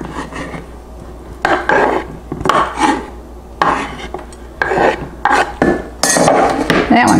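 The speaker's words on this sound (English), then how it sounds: "Now I'm going to stir in my salt pork." Salt pork being stirred into beans in a ceramic bean pot, repeated scraping and clinking of a spoon against the pot in irregular close strokes.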